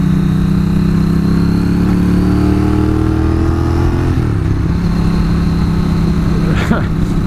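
A motorcycle engine drones loudly and steadily throughout a ride, its pitch dipping about halfway through before settling into a lower, continuous hum.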